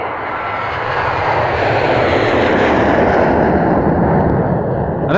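A fixed-wing airplane roars overhead in a comedy film scene, a loud sustained engine rumble that swells and holds steady throughout, ending with a brief sharp sound at the very end.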